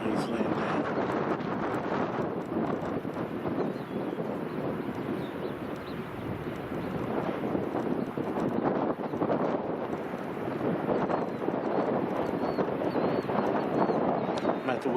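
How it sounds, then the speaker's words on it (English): Strong wind buffets the microphone outdoors during an air rifle hunt, a loud continuous roar and rumble that fills the whole span without pause. "Just to give you an idea just how windy it is, it's insanely windy."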